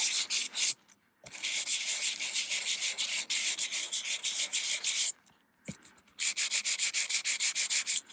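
Sanding white core cardstock by hand with 600 grit sandpaper, a steady close rasping rub in quick swirling strokes, broken by two short pauses.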